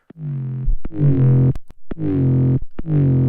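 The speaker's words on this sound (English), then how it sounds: "if you use something that's kind of a noisy distortion" Noisy distorted synth tones from a distortion effect in the Minimal Audio Current software synth, loud harmonic-rich bursts broken by short gaps and sharp clicks, played alone.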